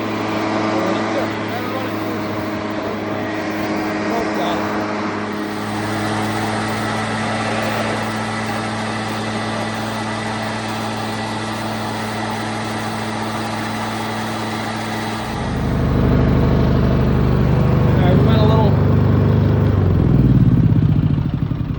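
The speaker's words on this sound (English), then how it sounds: "we got the generator running over here for about 5 minutes" A gas-powered generator runs steadily for winterization, its engine droning with a constant mechanical hum and clatter, growing louder and rougher near the end as the load shifts.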